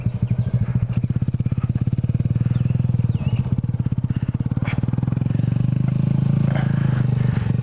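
A stunted-out Honda Grom motorcycle rides close by with a steady, loud buzzing engine note that climbs slightly as it accelerates during wheelie practice, with faint clatter and no talk.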